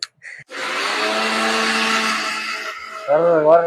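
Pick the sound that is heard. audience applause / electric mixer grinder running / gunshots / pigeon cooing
electric mixer grinder running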